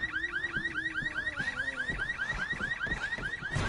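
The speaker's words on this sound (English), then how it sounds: "That alarm's not good." An alarm blares in the video game Resident Evil 6, a loud, steady repeating electronic warble cycling in quick regular sweeps, with faint game noise underneath.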